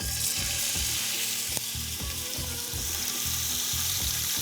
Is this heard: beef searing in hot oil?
yes